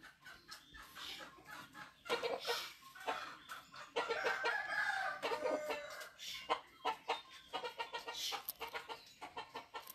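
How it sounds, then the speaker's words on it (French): A rooster crows and clucks repeatedly at close range, loud bursts spread across the whole stretch with other fowl calling around it. "Monsieur le coq, qui est là-bas? C'est quoi?"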